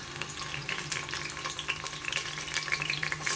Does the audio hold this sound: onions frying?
yes